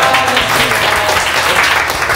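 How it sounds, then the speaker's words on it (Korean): Loud, close applause breaks out at a competition shooting exchange event, welcoming visiting club members, a dense burst of many hands clapping together for a couple of seconds. "우리 원걸음 해주신 슈타스 클럽 멤버들에게 박수 한번 주시죠"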